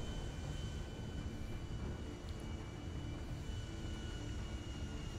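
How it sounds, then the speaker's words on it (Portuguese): An airplane flying in the video game GTA 5 during a meteor shower, with a loud, continuous engine drone and steady rumbling noise that never changes throughout. "eu não sei onde pousar esse avião"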